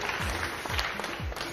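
Audience applause at the Moldova Are Talent semifinal talent show, a dense, steady clapping from a sizable crowd filling the hall for the whole stretch, fairly loud and continuous with no voices over it.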